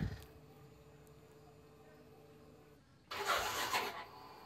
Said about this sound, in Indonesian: akinya masih tidak kuat untuk starter